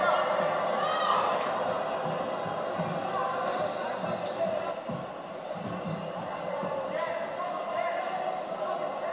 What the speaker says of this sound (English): Huge crowd support here for the Brazilian fighter.